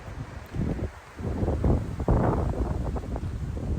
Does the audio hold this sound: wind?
yes